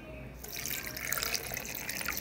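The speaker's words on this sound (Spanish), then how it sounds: "Y le vamos a poner un poquito de agua." Water poured into a blender jar over ice and sugar for a drink, a steady close splashing stream that starts after a brief quiet moment and continues alone.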